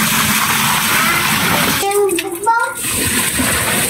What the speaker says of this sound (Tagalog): Lagyan natin guys yung tubig